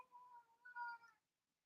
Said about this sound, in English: See, we have kitty confirmation now.